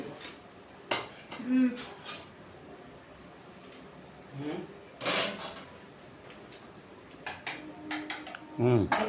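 A lid set down on a cooking pot of potato and flat bean curry, giving a few short metallic clinks and knocks scattered among quieter kitchen handling sounds.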